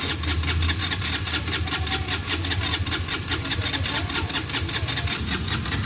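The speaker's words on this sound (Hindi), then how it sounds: "बाइक नखरे दिखा रही है स्टार्ट होने में।" A KTM motorcycle with a discharged battery struggling to start, its engine cranking and sputtering in a steady, rapid mechanical rhythm that stays loud and close throughout, with no clear voices over it.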